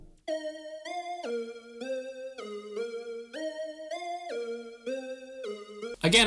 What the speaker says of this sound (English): Our final melodic element is this triangle pluck.